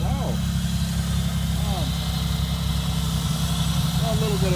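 A 1988 Oldsmobile Cutlass Ciera idles steadily after a minus-22 cold start, its low engine rumble loud and continuous throughout, with a voice talking over it at times.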